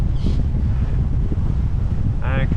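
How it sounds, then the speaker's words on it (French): Heavy wind roars across the microphone at sea near a passenger motor catamaran, a loud, constant low rumble of wind and water, with brief snatches of voices over it. "Un catamaran à moteur de passagers"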